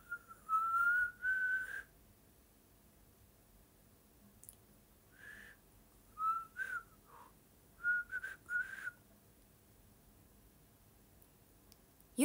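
Someone whistles a few short, breathy notes in bursts with pauses between, close and fairly quiet, with a faint click near the end.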